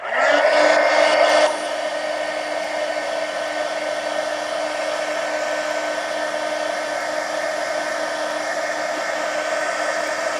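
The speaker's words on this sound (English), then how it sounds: "let me hit this with a heat gun." A heat gun drying glued paper edges on a Halloween mixed media art journal page gives a loud, steady airy whoosh that runs for about ten seconds, slightly stronger at the start, with no talking.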